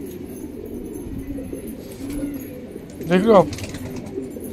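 Pigeons coo once in a short throaty burst near the end, over a quiet room background, while someone speaks briefly.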